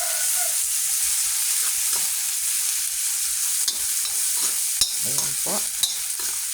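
Food frying in a wok gets stirred, a loud steady sizzle broken by scraping spatula strokes against the metal that grow busier toward the end, with a brief spoken word near the start.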